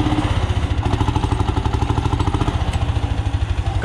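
An antique Lanz 24 tractor with its original silencer runs steadily nearby, a loud, even low-pitched thumping beat from the single-cylinder engine continuing throughout with no talk.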